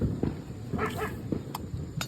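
A dog trapped in place lets out a few short yips and whimpers nearby, quick and uneven, against faint background noise.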